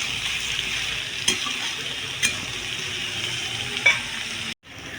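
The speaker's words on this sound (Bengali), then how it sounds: "কুমড়োটাকেও হালকা একটু আমি ভেজে নেবো ওর সাথেই।" Vegetables and pumpkin fry in a pan for egg khichuri, giving a steady close sizzle with a few sharp stirring scrapes and a brief cut near the end; no one speaks.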